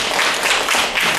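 An academic conference audience claps together in a dense, steady round of applause that fills the room evenly, with no single clap standing out.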